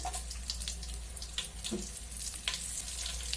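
Cumin and green chillies crackle in oil in a frying pan for egg masala gravy, a close, moderately quiet sputtering hiss broken by scattered pops and splashes, with no voices.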